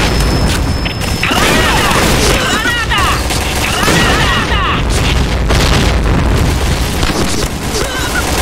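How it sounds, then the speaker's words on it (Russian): Grenade explosions in a video game on a live stream: loud, dense booms and crashing blasts rolling one into another, with a shouting voice over them. "Граната! Граната! Граната! Граната!"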